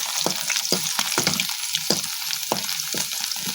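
Food fries in a pan and is starting to burn, giving a steady hiss of sizzling with repeated soft scraping taps as it is stirred, close and fairly loud.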